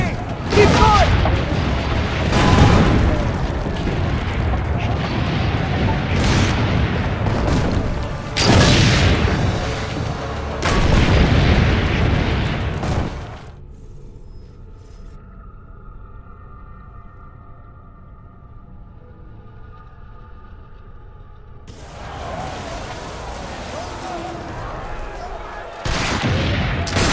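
Heavy booms and blasts of cannon fire and gunfire during a siege in the video game Assassin's Creed Brotherhood, loud and repeated, dropping away to a quieter lull midway before the bombardment returns.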